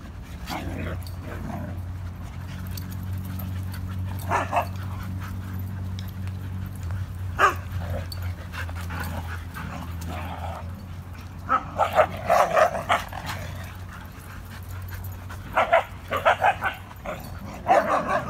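A dog barks and yips in repeated bursts over a low, steady hum, with some whimpering between the louder clusters of barks.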